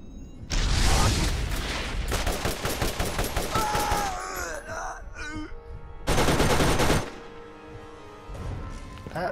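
An enemy gun fires in Borderlands in loud, heavy bursts of rapid shots, broken by short pauses and scattered game sound effects, with one more powerful barrage later.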